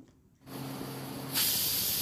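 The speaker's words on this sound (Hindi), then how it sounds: "और देखिए तीसरी सीटी लग गई है" A pressure cooker on high flame lets off its whistle as a steady hiss that rises sharply into a louder, shrill steam blast partway through, heard alone and close.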